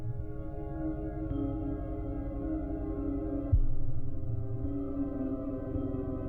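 The Something in the Dark boss battle music from the video game Omori plays alone as dense, steady sustained tones with a low droning bed and a brief accented hit partway through.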